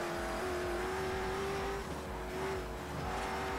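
A car engine in Forza Horizon runs at full throttle, a loud, steady high-revving drone with a slight dip in pitch midway, close and continuous with no talking.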